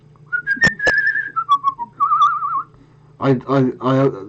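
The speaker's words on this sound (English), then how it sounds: "I'm whistling half the time." A person whistles a wavering, sliding melody with a trill in the middle, followed by a brief stretch of speech.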